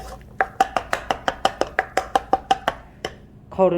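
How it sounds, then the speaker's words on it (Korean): Food being crumbled and chopped finely on a board for a sandwich filling by a school cooking club, a quick, even series of about fifteen sharp knocks, close and clear, with a short rustle at the end. "한 번 더 잘게 부셔서"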